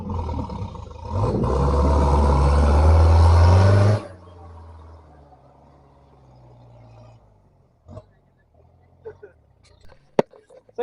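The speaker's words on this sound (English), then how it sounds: "So there's a Vitara that's decided to try going through it now." Suzuki Vitara engine revving hard and churning through mud, a loud roar for a few seconds that cuts off, then quieter rumbling and scattered knocks, with people talking.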